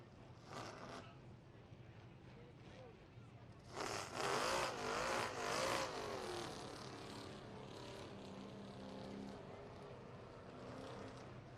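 Stock cars running around a short track during a race, engines swelling as a pack passes close by, then fading to a distant drone, with a commentator talking over it.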